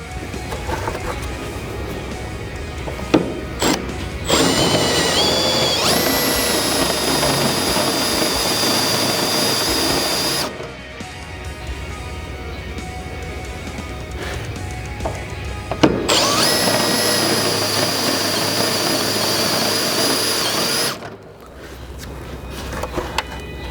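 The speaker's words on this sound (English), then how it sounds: "you're going to want to get your drill. Today we're using a Roto Broach 7/16 bit." A power drill fitted with a Roto Broach 7/16 bit bores out rivets on a 1965-70 Ford Mustang front suspension, with two long high-pitched whining bursts of several seconds each separated by short pauses, close and loud.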